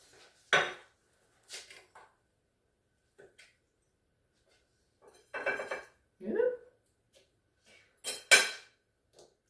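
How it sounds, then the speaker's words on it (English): A hot dish is set down on a quartz countertop in a kitchen, giving several separate clattering knocks of crockery spread across the stretch, with soft talk between them. "You can just set a hot dish on it without fear."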